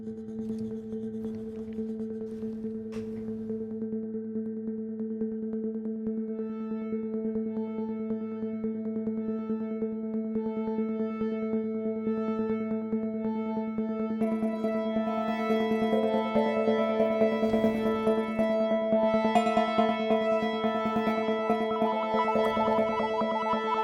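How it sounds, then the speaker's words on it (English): Layered synth drones for a suspenseful film cue hum steadily and fairly loud, with low sustained tones joined partway through by brighter, shimmering upper layers that thicken the texture toward the end. "So if we listen to these drones together, it sounds like this."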